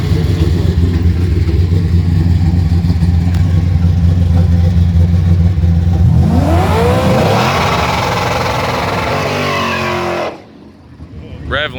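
Muscle car revving loudly during a burnout on Woodward Avenue, a sustained roaring engine with sweeping rises against the rev limiter, then cutting off abruptly near the end, with crowd noise and talk underneath.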